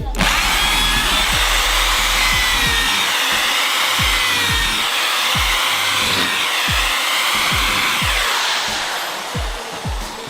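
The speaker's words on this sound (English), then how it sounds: "there is quite a lot of trellis pieces to drill" A power drill whirs loudly and continuously while boring into wooden trellis pieces for a yurt, its pitch dipping and rising as it bites, with steady mechanical whine throughout.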